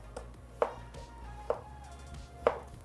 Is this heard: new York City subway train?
no